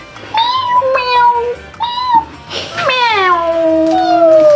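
Cat meows from a Roblox virtual item, a sound effect playing several times in a row: two short meows, then a longer drawn-out wailing meow, loud and close with no talking over them.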